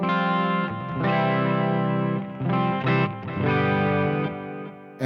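Clean guitar preset on a Neural DSP Quad Cortex amp modeler: several ringing chords strummed one after another, full and sustained with effects shimmer, loud and alone without talk.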